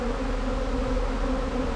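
A collected bee swarm drones in a dense, continuous buzz, loud and close, with no other sounds over it.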